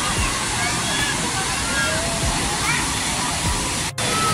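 Dassam Falls near Ranchi roars as a loud, steady wall of rushing, crashing water that fills the whole clip, with a voice talking underneath.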